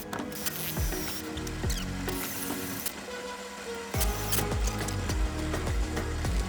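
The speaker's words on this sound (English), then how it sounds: "And I'm just using a diamond tipped hole saw." A diamond-tipped hole saw cuts through an aquarium cave piece in bursts of grinding and whirring, starting and stopping in short runs close by, with no talking.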